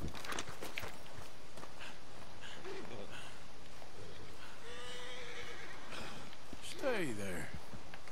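A horse neighs in the video game Red Dead Redemption 2, a loud whinny rising out of a steady outdoor game soundscape with hoof clops and birds, while someone talks over it.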